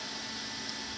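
Cooling fans of a Raspberry Pi portable computer build whir in a steady, broadband hiss, close and constant with no talk.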